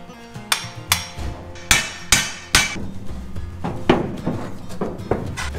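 Metal is struck repeatedly with a hammer, sharp ringing clanks at an uneven pace, close and loud, some blows heavier than others.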